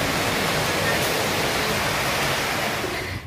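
Rain falls as a dense, constant hiss, loud and even with no breaks, filling the whole moment.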